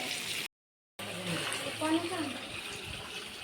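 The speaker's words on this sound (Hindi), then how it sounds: "तो देखो जिज्जी किस तरीके से बोतल में पानी भर रही है।" Water pours steadily into a bottle outdoors in a village field, a continuous close gushing stream broken by a brief gap, with people talking over it.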